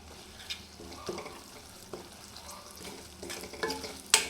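Coriander, cumin, garam masala and turmeric powders fry in oil for a paneer masala gravy, giving a quiet, soft sizzle with scattered stirring scrapes and a sharper clink near the end.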